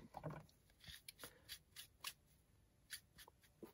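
Scissors snip through paper card at a crafting table, a run of short, quiet crisp cuts with small pauses between them, close by and faint, with no talking.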